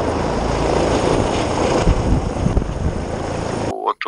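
A mountain rescue helicopter hovers over rocky ground in the Retezat mountains, its loud, close rotor and engine roar filling nearly the whole stretch before cutting off abruptly near the end.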